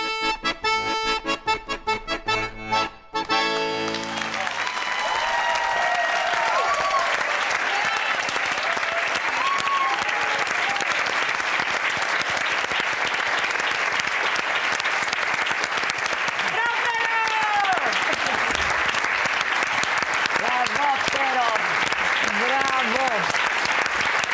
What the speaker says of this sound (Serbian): Znaš, one ne tapšu ovoliko nikada.